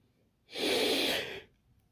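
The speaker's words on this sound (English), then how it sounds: "why am I yawning?" A person yawns once, a single drawn-out breathy exhale lasting about a second, close and alone with no talk.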